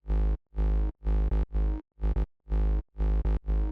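A deep, buzzy synth sub bass made with a Faceplant patch plays short rhythmic notes in a bouncing pattern, each one starting and stopping abruptly, with nothing else underneath.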